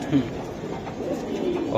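Pure red Chulli pigeons, a pair, coo in low repeated murmurs close by, with background voices and bustle around them.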